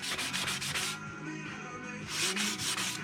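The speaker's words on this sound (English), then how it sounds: "I'm gonna be getting rid of all the little burrs on the ends" Small metal parts for a 1/14 scale lowboy trailer model are deburred with quick, close rasping strokes, one rubbing burst at the start, a quieter pause, then another run of strokes.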